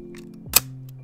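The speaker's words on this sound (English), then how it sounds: "The shutter on this camera is also very quiet." A rangefinder film camera shutter fires once, a single crisp, quiet click close to the microphone over a low steady background hum.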